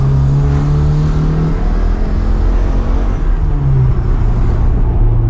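A SEAT 132 climbing an uphill road, its engine droning loud and close from inside the car with a steady low hum that drops in pitch partway through, no voices.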